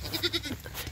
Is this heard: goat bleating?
yes